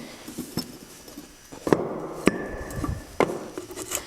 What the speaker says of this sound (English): I'm just using a nice brass hammer here to pull that drum off the rest of the way